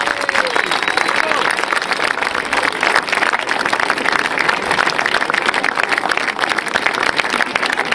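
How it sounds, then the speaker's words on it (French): A crowd at a polo championship final applauds the English team in a dense, steady wash of clapping under a French announcer's amplified voice. "Allez, encore des applaudissements, mesdames et messieurs, pour les Anglais."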